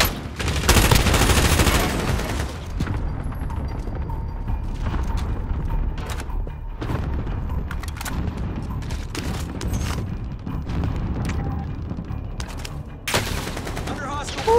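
Rapid gunfire crackles through a Call of Duty: Warzone match in the Power Grab mode, with sharp automatic bursts and scattered shots over a steady rumbling battle bed. A loud volley opens the sequence and further bursts follow throughout.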